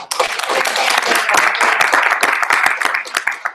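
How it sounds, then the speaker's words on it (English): Dinner guests clap together at a women's business dinner, a loud close burst of many hands with distinct individual claps, steady throughout and tapering slightly at the end. "can we clap one more time?"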